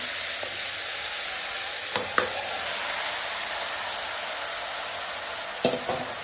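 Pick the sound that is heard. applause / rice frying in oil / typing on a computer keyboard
rice frying in oil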